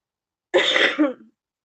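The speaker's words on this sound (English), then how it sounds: "Can't wait till I get rid of this cough." A single harsh cough, close and clear, with a short rough tail as it fades out.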